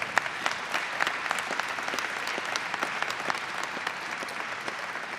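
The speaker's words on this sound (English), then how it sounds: "You should clap for that." Sustained applause from an audience at a Pittsburgh, Pennsylvania economic development announcement: dense, steady clapping with many overlapping hands, fairly close and even in loudness, with no talk over it.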